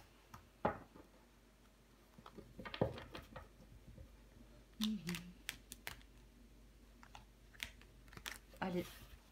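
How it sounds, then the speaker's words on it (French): Tarot cards are laid down one over another on a table, giving a few soft slaps and taps spread apart, with someone speaking quietly at times between them. "Je vais recouvrir des cartes."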